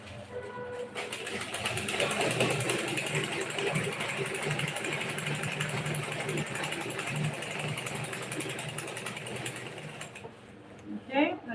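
A sewing machine stitches the sides of a garment lining, running steadily for about ten seconds at close range, then stopping with a few handling knocks at the end.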